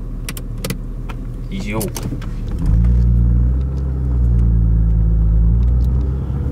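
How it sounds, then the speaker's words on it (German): A BMW E36 M3 from 1996 with its six-cylinder engine runs smoothly, a steady low rumble that swells as it pulls away after a brief bit of speech and some clicks. "Der Sechszylinder vom BMW läuft ja seitenweich."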